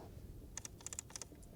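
A quick series of small, crisp plastic clicks from the air vent controls of a 2019 Mazda6, about ten in a row, faint and close, with no talking.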